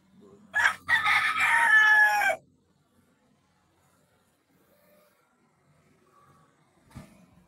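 A rooster crows once, loud and fairly close, for about two seconds, followed by near silence and a faint thump.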